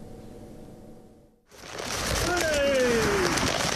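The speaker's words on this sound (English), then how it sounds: "Destructive winds and torrential rain whipping up the sea, creating whitewash and chaos." Torrential rain and destructive wind from Cyclone Veronica, entering abruptly after a quieter stretch and then swelling into a loud, dense roar and hiss, with a faint tonal whine partway through.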